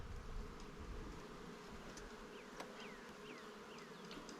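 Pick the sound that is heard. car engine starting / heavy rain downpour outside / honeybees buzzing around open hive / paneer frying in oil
honeybees buzzing around open hive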